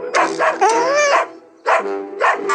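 A neighbours' dog barks loudly and close by in a series of yapping barks with whiny tones, pausing briefly before another burst.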